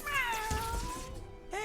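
A cat in the Legends of Runeterra card game gives a single drawn-out meow, followed by a brief second mew at the end, heard clearly and close with no speech.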